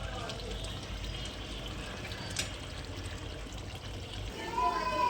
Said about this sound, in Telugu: ఇప్పుడు కొంచెం వాటర్ పోసుకోవాలి.